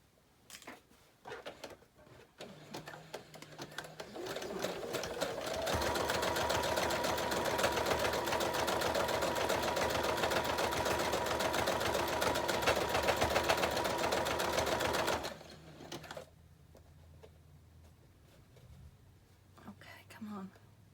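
Sewing machine running a zigzag stitch on a fabric journal pouch, a steady close whirring buzz for about ten seconds, with soft murmured talk and handling noises before and after.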